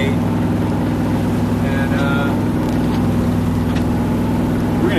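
Sailboat engine motoring on calm sea near Kauai, Hawaii, a loud, steady droning hum running unbroken throughout, with a brief spoken word over it.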